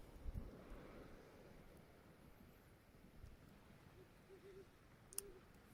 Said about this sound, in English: that's an active owl